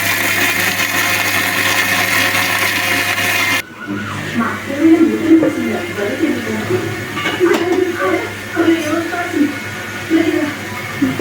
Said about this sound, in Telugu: ఇవన్నీ వేసుకొని కొన్ని వాటర్ యాడ్ చేసుకొని మిక్సీ పట్టేసుకోవాలి